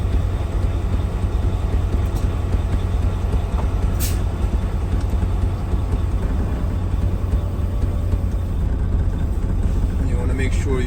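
A truck engine idles steadily after starting while its air governor builds brake pressure, a loud continuous low rumble with a brief hiss, under a voice.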